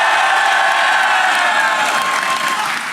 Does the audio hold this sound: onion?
no